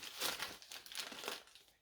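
A brown paper bag holding a surströmming fermented herring package crinkles and rustles as it is opened, close up, with several bursts of crisp crackling fading out at the end.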